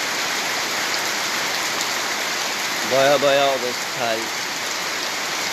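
Heavy rain pours in a constant dense hiss, with a brief burst of talking partway through.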